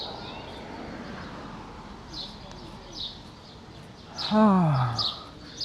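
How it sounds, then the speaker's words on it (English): Scattered bird chirps over a steady outdoor city hum on a Brooklyn street, with a brief louder call near the end; moderately distant, under a background of ambient noise. "I can hear the birds."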